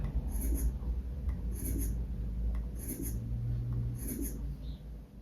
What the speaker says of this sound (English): if you need to erase something, this is what that will sound like.